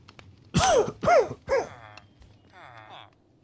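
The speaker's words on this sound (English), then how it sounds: "Pardon me a minute, I've got a cough." A person coughs three times in quick succession, each loud, harsh and close, and then gives a softer throat-clearing rasp afterward.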